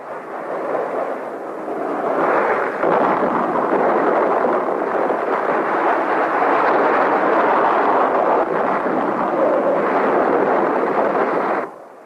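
B-52 bombing run explosions at Khe Sanh during the Vietnam War, heard as a continuous heavy rumbling barrage of distant blasts that rolls on for about nine seconds and then cuts off abruptly.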